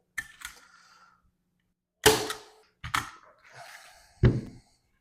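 A staple gun fires staples through canvas into a wooden stretcher frame, several sharp snapping shots spaced apart in an irregular rhythm, close and loud with quiet gaps between.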